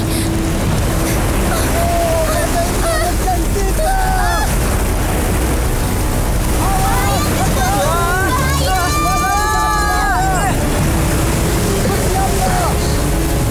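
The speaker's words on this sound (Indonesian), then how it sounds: "Badainya kencang sekali." A fierce storm at sea surrounds a boat with roaring wind and crashing waves, a loud continuous wash of noise, while several people talk and shout over it.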